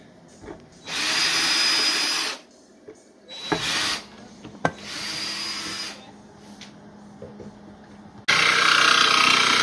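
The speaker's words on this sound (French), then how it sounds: "c'est l'étape de percer le trou" A power drill bores a sink hole in a new kitchen countertop, running in several loud, close bursts of whining with pauses and short clunks between them.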